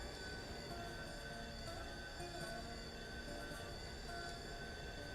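A diesel locomotive in a train simulator game runs continuously through a curve, giving a dense, even drone of engine and rail noise at constant loudness.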